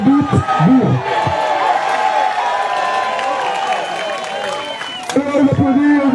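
A crowd at a Coupe de France combat bout claps and cheers in a steady, moderate wash of applause, with someone talking over it near the start and end.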